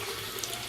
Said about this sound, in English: this is supposed to let all the solids go down, and then the clean water goes out that pipe back into the sump